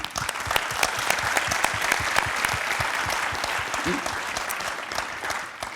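Audience applause at the closing ceremony of the ITS World Congress 2015 in Bordeaux, a large hall of sustained, dense clapping at steady volume throughout with no voices over it.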